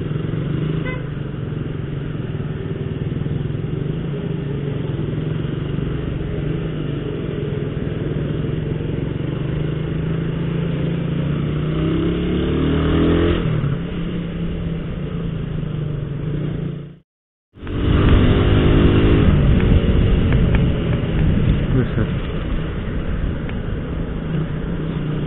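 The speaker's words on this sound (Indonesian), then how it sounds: "Aneh banget pokoknya motor gua lemot." Motorcycle engine droning and revving steadily close by for the whole stretch, a sustained mid-pitched growl with a brief cut-out near the end before the engine note returns louder.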